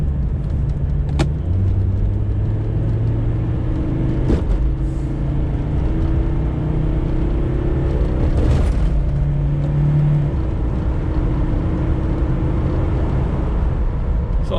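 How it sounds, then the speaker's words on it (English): A Mercedes car engine at wide open throttle, droning steadily and loudly as it pulls through rising revs, with a few brief clicks or knocks along the way, no talking. "give it a wide open throttle pull."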